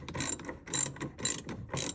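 A spring-loaded plastic retainer being worked loose on a 2025 Jeep Wrangler JL, giving a quick series of ratcheting clicks in irregular bursts, close and fairly quiet.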